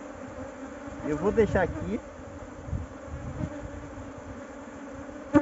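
Honey bees buzz steadily around an open hive during a honey harvest, a close droning hum with louder swells, while a person speaks briefly over it.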